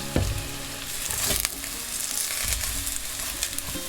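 Chicken tsukune meatballs with garlic scapes sizzle and crackle steadily in a frying pan, with a few louder pops and stirring clatters up close.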